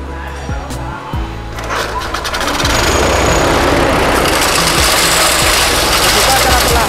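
A hammer mill with a cyclone suction blower switches on. A low knocking start rises within about two seconds into a loud, dense, continuous roar that holds steady at close range.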